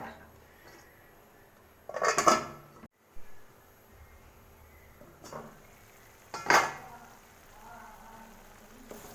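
A spoon stirring kadai paneer gravy in a pan: two sharp bursts of metallic scraping and clatter against the pan, separated by quiet stretches with soft background noise.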